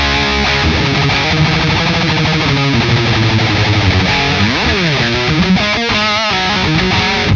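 An Orange Rockerverb guitar amp with the gain maxed plays heavily distorted guitar chords and runs, loud and continuous, with a thick hissy saturated tone and a sliding pitch bend partway through.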